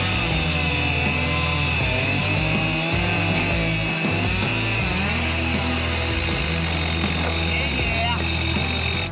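A chainsaw cuts up a boat in a loud, sustained whine, revving and dipping repeatedly as the blade bites in, heard up close and alone.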